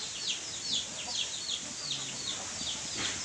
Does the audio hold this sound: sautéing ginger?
no